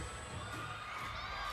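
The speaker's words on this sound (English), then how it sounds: "you can hear the crowd" Crowd noise at a professional women's volleyball match in the Philippines, steady cheering and shouting from the stands with a few higher whoops, loud and continuous throughout.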